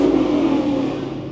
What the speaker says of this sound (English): The supercharger sounds so good.